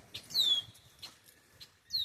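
Small birds chirp outdoors beside a pond between bouts of rain: a few faint, high whistled calls come in short separate bursts over quiet background.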